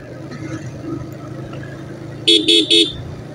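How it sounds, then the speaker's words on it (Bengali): A Tesla's horn honks three short times in quick succession, loud and close, over steady highway road and engine noise. "এরকমের টেসলা সবসময় হর্ন দিয়ে চলবে।"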